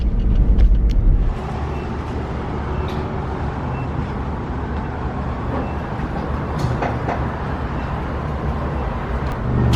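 Steady low rumble of a car driving along a road toward a gas station, a continuous engine and road drone with tire noise, louder at the start and then even throughout, no talk.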